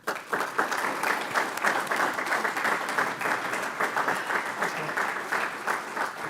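An audience at a city State of the City address applauds the mayor of Richmond, a sustained, dense round of clapping from a sizable crowd that holds steady throughout.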